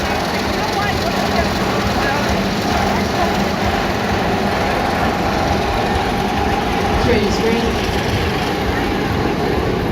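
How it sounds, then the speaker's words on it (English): A roller coaster train running at Six Flags Great Adventure amusement park, a steady distant rumble and mechanical roar that continues without a break, with voices talking faintly over it. "That first train is just getting back to the run."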